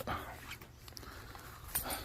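Dogs in a backyard garden give a faint, brief burst of panting with a soft whimper, close by against quiet outdoor background.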